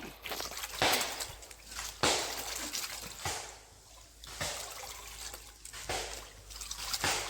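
Liquid plant fertilizer being mixed with water, with repeated close trickling, pouring and splashing in uneven bursts, no talk.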